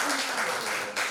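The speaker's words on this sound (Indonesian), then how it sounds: "Tepuk tangan untuk Presiden" An audience applauds the President of Indonesia at a Bali transport and tourism event, a brief burst of clapping that stays steady for about a second and dips just before the end.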